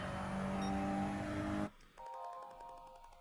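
A race car in Gran Turismo 7 roars at a steady high pitch, then the engine note drops sharply as it brakes and downshifts before picking back up, close and loud with no talk.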